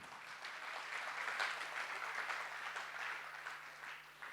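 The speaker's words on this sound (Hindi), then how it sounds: "अब बजाओ ताली।" A seminar audience applauds steadily at low volume, a soft, even wash of many hands clapping from across a large hall for a few seconds.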